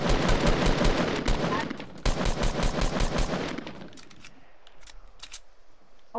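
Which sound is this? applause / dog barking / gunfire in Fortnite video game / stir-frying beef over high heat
gunfire in Fortnite video game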